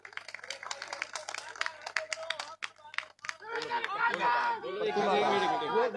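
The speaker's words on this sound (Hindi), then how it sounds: "एक बार जोरदार तालियां हो जाए इनके लिए।" Scattered claps from a crowd at an outdoor gathering at an old grain market, followed by loud overlapping chatter and voices that take over the second half.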